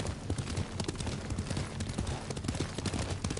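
Horse hooves clip-clop in a quick, steady riding rhythm in a video game, dense and close under a broad background wash, with no voices heard.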